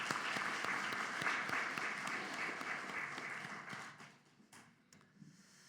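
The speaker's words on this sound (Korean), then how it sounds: "우리 할렐루야 찬양대 주일 경배 찬양팀 축복하고 격려하는 박수 한 번 더 하겠습니다." A church congregation at Bucheon Jisan Church gives applause to the Hallelujah choir and the Sunday worship team. The dense clapping holds steady, then tapers off into a few scattered claps.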